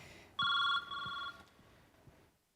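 A telephone rings indoors in a short two-burst electronic bell pattern, clear and fairly close, then fades with faint background noise.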